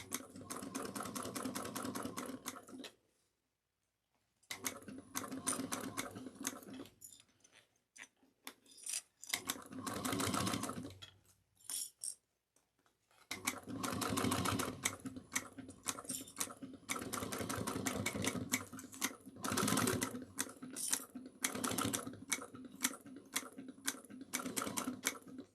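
A sewing machine stitches curved seams on a small cross-body bag, running in bursts of steady rapid needle chatter separated by short pauses and one silent gap, fairly close and loud, with no talking.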